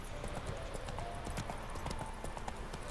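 Roach, a horse in The Witcher 3, gallops in a steady rapid clip-clop of hooves, close and continuous under a wash of game ambience.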